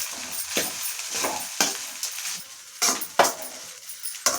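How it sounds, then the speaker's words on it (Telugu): Lemon rice tempering of peanuts, chana dal and urad dal being stirred in a pan, with sharp spatula scrapes and clinks repeating every second or so over a steady close sizzle of frying. "ఇప్పుడు అన్నీ వేసినాం కదా, ఒకసారి కలుపుదాం."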